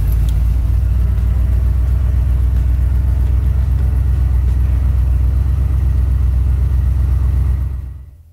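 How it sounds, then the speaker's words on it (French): A 1977 Chevrolet Caprice engine starts and idles loudly with a deep, booming exhaust rumble, holding steady and close for about seven seconds before cutting off abruptly. "je vous laisse apprécier le niveau sonore que la voiture accusait jusqu'à présent au démarrage"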